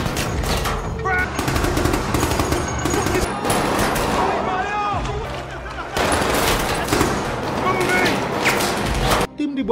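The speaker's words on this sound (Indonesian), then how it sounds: "musuh yang menggunakan senjata mesin" Dense bursts of machine gun fire rattle through a film battle scene, rapid volleys with short pauses between them, loud and close, mixed with shouting voices.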